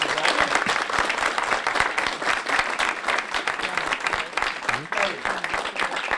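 An audience at a lunchtime memorial event applauds steadily and loudly for about six seconds, dense clapping filling the space with a few voices faintly audible underneath.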